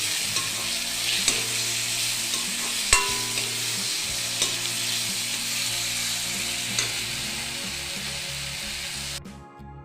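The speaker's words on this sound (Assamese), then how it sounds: "আদা নহৰুখিনি দি দিলোঁ।" Ginger and garlic go into onions frying in a pan for a brinjal and dried fish kharoni. A steady close sizzle runs throughout with a few soft stirring knocks, and no one speaks.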